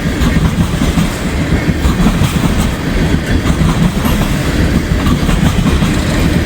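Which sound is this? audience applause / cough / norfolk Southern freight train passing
norfolk Southern freight train passing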